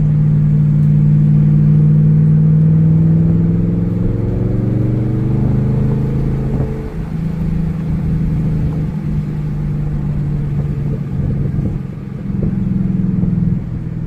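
A Chevrolet Camaro Z28 engine drones loudly from inside as the car drives a wooded back road, pitch sweeping up and down through gear changes over a steady low rumble, with no talking.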